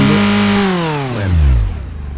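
A car engine in a fuel-system demonstration revs up loudly with a falling whine as the throttle is released, then settles toward a rough idle, close and steady without any voices.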